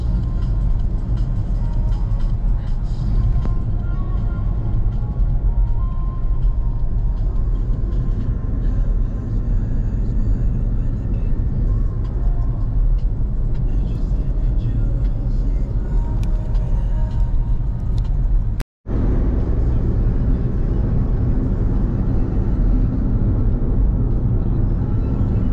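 Steady low road rumble and engine drone from inside a taxi driving toward Tanjung Rhu Beach in Langkawi, continuous and loud with no talk, broken by one brief cut near the end.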